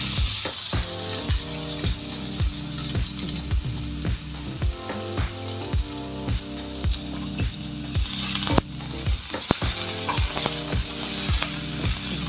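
Fennel seeds and onion fry in hot oil for a paneer fry, giving a steady close sizzle broken by regular scraping strokes of a spatula, with no voices.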